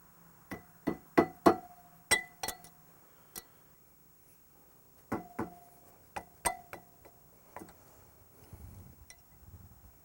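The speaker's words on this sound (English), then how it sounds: "I'll take the hammer and I'll tap the wrench into the socket" A hammer taps a wrench into a socket on a bolt of a portable stump grinder, giving sharp metallic clinks in a quick cluster, a single strike, then another burst of taps, close and clear.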